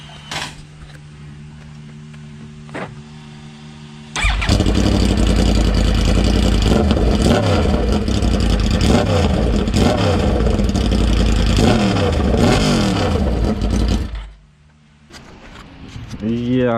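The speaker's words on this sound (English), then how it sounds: "I'm gonna start it up again." A vehicle engine with one exhaust removed fires up after a short lull and revs hard, a loud, raw, rumbling roar with rising and falling pitch that holds for about ten seconds before dropping off.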